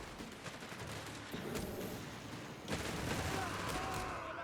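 Gunfire and anti-tank guns crackle and boom in the World War II strategy game Company of Heroes 3, forming a dense, continuous battle din that swells louder partway through.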